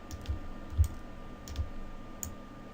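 A computer mouse gives a few soft, sharp clicks spaced irregularly over a quiet background, close and faint.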